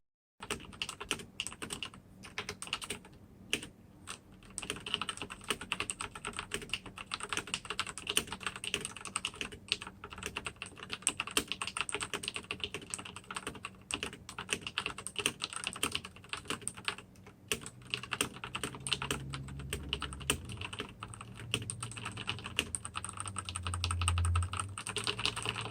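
Mechanical keyboard switches clatter under steady typing, a dense run of quick, close keystrokes continuing throughout with no talking.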